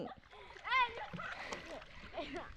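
Children splash in water during a floating race in a river. A short, sharp splash bursts out among excited children's voices.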